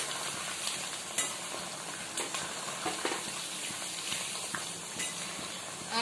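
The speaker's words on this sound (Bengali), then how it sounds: "আমি গ্যাসের ফ্লেমটা হাই করে দিয়েই এটা ভাজছি।" Paneer frying in oil, tinged with turmeric, over a high gas flame, giving a continuous crackling sizzle with scattered sharp pops and spatters, close and unbroken by speech.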